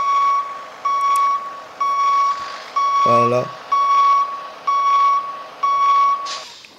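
Reversing beeps from a small dump truck in the Cargo Transport Simulator video game, a regular string of loud electronic beeps about once per second, with someone briefly speaking over them.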